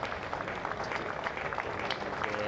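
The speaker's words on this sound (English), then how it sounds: "Really warm applause for Keith Barker" Warm applause from a cricket crowd greets Keith Barker at a County Championship match between Warwickshire and Hampshire, a steady patter of clapping hands held at a moderate level throughout.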